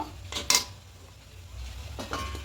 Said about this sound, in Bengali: কড়াইয়ে জল দিয়েছি দেখুন জলটা ফুটতে শুরু করে দিয়েছে এবার এখানে একটা স্ট্যান্ড দিয়ে দেব